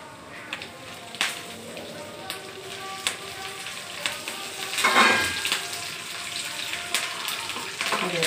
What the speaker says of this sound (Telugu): ఎండుమిరపకాయలు వేగుతున్నాయి